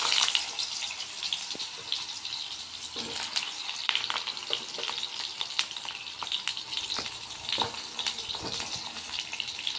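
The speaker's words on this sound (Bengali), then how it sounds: "কড়াইতে পটলগুলোকে দিয়ে দেবো।" Pointed gourd (potol) pieces go into oil in a wok and sizzle steadily. Stirring clatters and a few sharp knocks come through the hiss.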